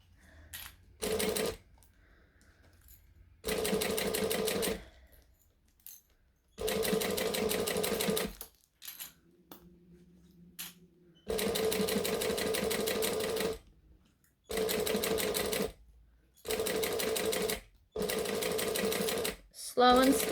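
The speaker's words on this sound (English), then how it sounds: "But I can't see my domestic sewing this many layers." A sewing machine punches through many thick fabric layers in short, separate bursts of steady stitching broken by quiet gaps, heard close up and alone.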